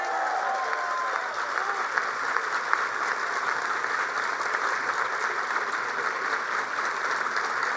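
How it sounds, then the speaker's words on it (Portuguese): Sustained applause from an audience at the BNDES presidential swearing-in ceremony with President Lula, a dense, steady roar of clapping from a large crowd lasting throughout. "Nem todo mundo entende por que tantos aplausos"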